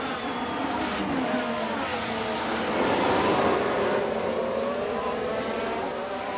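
Race car engines in the F1 Manager 24 video game at Bahrain, a dense, steady whine of several cars running together at a moderate level that swells slightly and then eases, with no voices.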